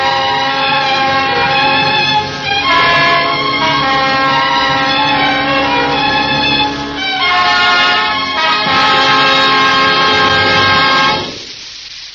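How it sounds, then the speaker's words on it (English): A deep, loud foghorn in an old radio suspense drama sounds in long sustained blasts with brief breaks, rich and droning, ending with a fading tail. "Don't wonder that you hate the sound of foghorns, Letty Taylor."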